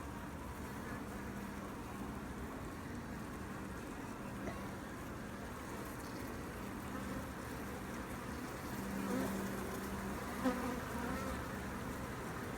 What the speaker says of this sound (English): This is a pretty calm hive here